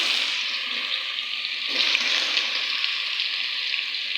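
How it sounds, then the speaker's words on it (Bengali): Onions sizzle steadily in hot oil in a pan, a continuous bright crackling hiss at an even level with no talk over it. "জ্বালার পরে পেঁয়াজটাকে ভালো করে লাল করে নেব"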